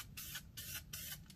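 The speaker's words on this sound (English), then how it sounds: "So notice I'm just doing short little bursts of spray" Spray paint hissing onto a chrome car wheel in three short, evenly spaced bursts, loud and close.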